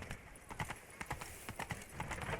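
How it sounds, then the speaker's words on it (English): Galloping horse in The Witcher 3 video game, rapid rhythmic hoofbeats clip-clopping steadily throughout, fairly close and moderately loud, with no speech. "Run, Roach"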